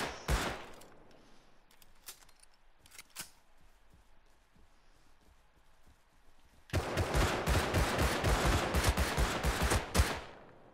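MP5 submachine gun fire in Rust, starting with a short burst and a few scattered single shots, then a long, loud, rapid automatic burst lasting several seconds before cutting off.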